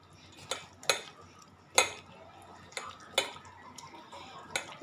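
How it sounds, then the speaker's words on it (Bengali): Chopped onion, ginger and garlic mashed together with egg by hand in a bowl, giving irregular wet squelches and sharp clinks against the dish, several distinct knocks spaced about a second apart over a quiet background. "খুব ভালো করে চটকে নেবে, যাতে পেঁয়াজ আদা রসুনটা একটু নরম হয়ে যায়"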